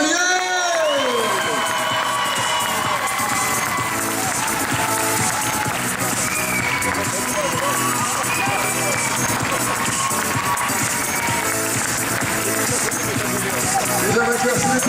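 A crowd at a youth cycling event claps, cheers and whoops for a young rider, with children shouting and an announcer's voice over a busy, echoing indoor din that lasts throughout.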